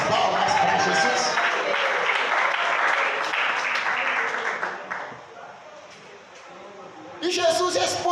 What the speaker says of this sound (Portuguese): A igreja pode glorificar e bater as palmas para Jesus.